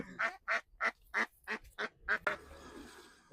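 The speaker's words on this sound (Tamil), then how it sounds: "பெண் வாத்து தான் கத்துது" A female duck at a garden farm feast quacks loudly in a steady series of about eight evenly spaced, close calls, followed by a brief stretch of rustling background noise.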